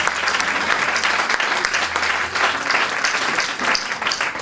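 A church congregation applauds at a revival sermon, with loud, dense, continuous clapping filling the whole stretch.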